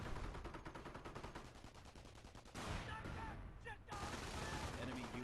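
MG42 machine gun firing rapid, evenly spaced bursts in a World War II strategy game match, loud and rattling, with other game sounds and a short break partway through.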